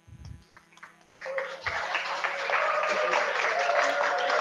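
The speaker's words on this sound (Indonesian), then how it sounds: "Tepuk tangan." A classroom of chemistry students breaks into sustained applause, many hands clapping loudly for several seconds after a few scattered claps and a short bit of talk.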